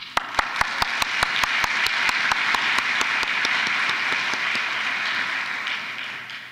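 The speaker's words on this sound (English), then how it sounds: "How about one more round of applause?" Audience applause at an APIDA recognition celebration: a loud, sustained patter of many hands, with one sharp, close clapper keeping a steady beat through the first few seconds before the crowd sound slowly fades.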